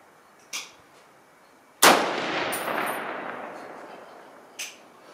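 A single sharp report from an M1A .308 rifle with a stainless Krieger barrel at a rifle club range, loud and close, trailing off into a long rumbling echo, with fainter distant shots just before and after.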